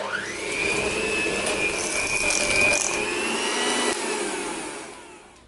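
An electric mixer whirs through cake batter with a steady motor whine and a faint high tone, then slows and fades as it is switched off near the end.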